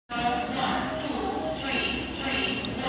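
A passenger train on the Lucknow to Bareilly run rattles along in a loud, continuous rolling roar heard from inside a carriage, steady and close without a break.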